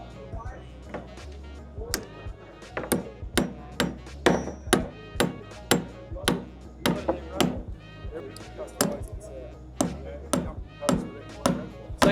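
A Martinez hammer drives a nail by hand in a steady run of sharp, loud wooden thwacks, roughly two per second with a few brief pauses, close up and clear.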